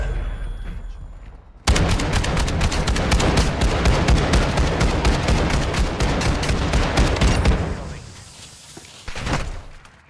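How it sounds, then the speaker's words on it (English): The Broadside shotgun in Call of Duty DMZ fires in a loud, rapid string of close blasts against a boss, continuing for several seconds before the shooting stops and a final few shots ring out. "this time we're gonna be using the broadside shotgun"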